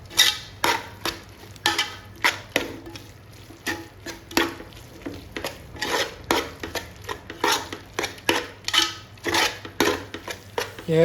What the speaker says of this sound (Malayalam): നല്ലോണം കൂടെ ഇട്ട് കൊടുത്തിട്ട് മൊത്തമായിട്ടൊന്ന് മിക്സ് ചെയ്യുക.